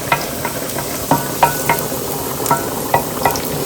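Garlic frying in oil in a pan for penne arrabbiata: a constant bright sizzle punctuated by repeated clinks and scrapes of a utensil against the pan, close up and fairly loud, with nobody talking.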